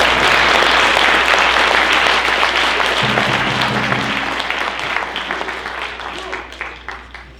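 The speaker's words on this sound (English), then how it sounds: "you can get a round of applause for Rafael here" Sustained round of applause from an audience at a Ute Indian pow-wow dance performance at a history museum in Steamboat Springs, dense clapping that fades gradually over several seconds, with a brief voice or hum partway through.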